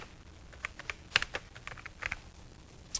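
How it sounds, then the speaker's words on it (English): Keys tapped on a computer keyboard while a date is entered into a Word 97 document, a sparse, irregular series of clicks that are close and fairly quiet, with short pauses between strokes. "So what we'll do is we'll type a date in here."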